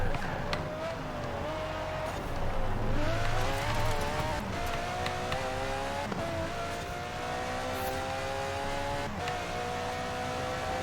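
Lancia Delta 900hp AWD rally car in Forza Horizon 4, racing through British countryside toward Edinburgh, roars continuously and loudly, its engine pitch climbing through repeated gear shifts, with occasional thumps and tire noise.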